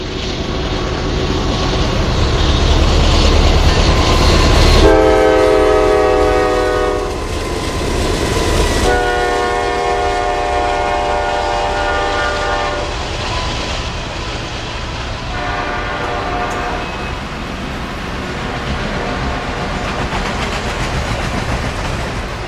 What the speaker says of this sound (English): The last train we'll see in the Somerville area will be NS Train 282.